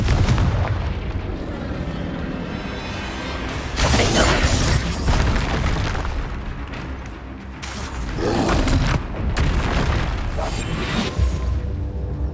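Bombarda and Confringo spells go off in combat in the Hogwarts Legacy video game, a string of loud booming blasts and crashing impacts spread across the clip. Heavier bursts come in waves over a rumbling game soundscape, with no voices.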